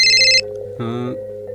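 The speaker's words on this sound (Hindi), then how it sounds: "ए मुश्ताक, फोन किसका है?" A mobile phone ringtone plays a loud bright electronic tone burst, followed by a low buzzing tone, in an Urdu television drama scene, with no one speaking.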